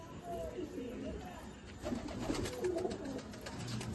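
Pigeons at someone's house coo softly in low, rolling bursts, faint and close under a steady background hiss and some talk.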